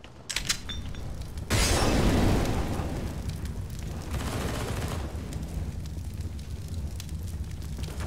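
A flashbang and then a fire grenade thrown in a tactical shooter game: small clicks and a throw, then a loud whooshing burst of flame that settles into a sustained roaring crackle of fire.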